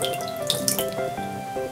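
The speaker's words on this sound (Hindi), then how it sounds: "पार्टी को मजेदार बनाने के लिए ये गोलियां डाल देते हैं" Tablets plopping into water in a toy pool, with splashy, dripping water sounds over a steady tonal background and a few brief bright splashes.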